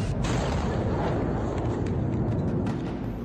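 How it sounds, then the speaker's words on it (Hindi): A missile strike blast brings down a building in Kharkiv, a heavy, sustained roar of rumbling debris and crashing rubble that stays loud and dense throughout, with scattered sharper cracks. "ये धमाका इतना जोरदार था कि आसपास के इलाके भी दहल गए"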